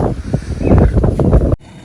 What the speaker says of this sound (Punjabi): ਠੰਡੀ ਹਵਾ ਚੱਲ ਰਹੀ ਆ